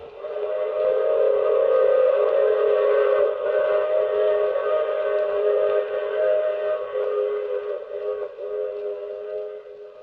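A train whistle sound effect from a radio drama sounds as a long, loud, sustained steady blast with a slight waver, alone without any voices.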